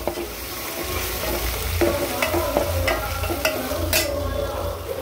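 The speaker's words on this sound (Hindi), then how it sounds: "इधर ये भी फ्राई हो रहा है और ये भी फ्राई हो रहा है।" Ginger garlic paste frying in a pan with oil and onions, a steady close sizzle broken by scraping and clinking stirring strokes, with no talk.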